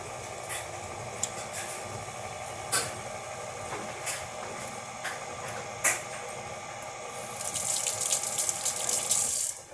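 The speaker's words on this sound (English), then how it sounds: "Just wanted to give my hands a quick rinse." Water runs from a kitchen tap while hands get a quick rinse after handling sticky bananas, a steady close wash with small splashes that swells into a stronger gush near the end.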